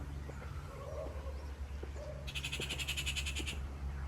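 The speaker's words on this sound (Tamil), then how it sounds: "எங்கேயோ ஒரு குருவி கத்துது, கத்துற சத்தம் மட்டும் கேட்குது," A small bird gives a quick, high-pitched trill of rapid chirps for about a second, faint and somewhat distant over a steady low hum.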